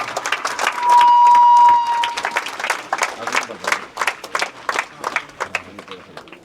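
Applause from a crowd at a school athletics meet prize ceremony, a burst of clapping that swells and then fades to scattered claps beneath a voice on a loudspeaker.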